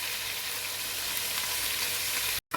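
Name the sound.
garlic ginger paste frying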